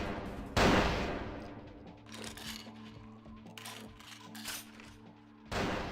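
Sniper gunfire in the Vampire the Masquerade Bloodlines video game: a sharp loud shot opens, followed by scattered mid-level impacts and clatter, then another heavy shot near the end, with no talk.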